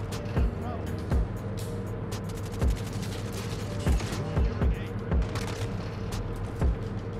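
Video game gunfire from a Fennec SMG, several short bursts and single sharp reports spread unevenly across the clip, standing out over a constant backdrop of game music and ambience.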